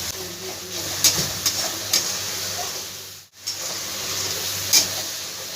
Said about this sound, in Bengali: দিয়ে ভালো করে মশলাটা আমি ভেজে নেব।